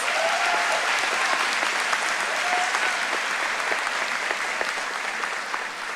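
A crowd applauds steadily at a high school honors ceremony, dense clapping holding at an even level throughout before easing slightly near the end.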